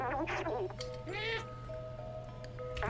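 Cat meows from the video game Stray, two or three short close meows in quick succession, the second one longer and rising, over a low steady game background hum.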